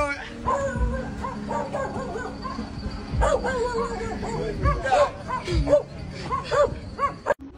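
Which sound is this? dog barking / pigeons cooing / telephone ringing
dog barking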